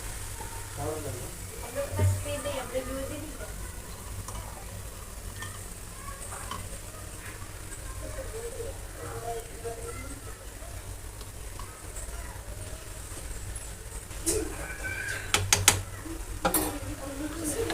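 Carrot halwa thickening in ghee as it is stirred in a pan, a low steady sizzle with soft scraping strokes throughout and a cluster of sharp utensil clicks toward the end.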